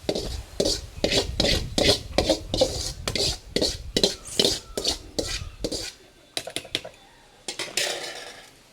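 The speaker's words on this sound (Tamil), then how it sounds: "கீரை கூட சேர்த்து நல்லா நம்ம கரைஞ்சிக்கலாம் உறவுகளே" Spinach and chilli being mashed in a pot in village style, a rhythmic run of scraping, rubbing strokes of a masher against the vessel, close and fairly loud, slowing into a few scattered scrapes at the end.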